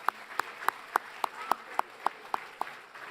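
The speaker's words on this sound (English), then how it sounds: "give yourselves and one another a round of applause" About ten crisp, evenly spaced hand claps at a media arts show's keynote and awards ceremony, fairly faint and steady in rhythm, sounding more like a few hands than a full crowd.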